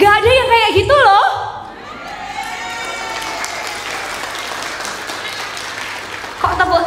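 A seminar audience at a district cooperative and micro-enterprise office event in Sidoarjo breaks into sustained, moderately loud applause that lasts several seconds, with a speaking voice just before and just after.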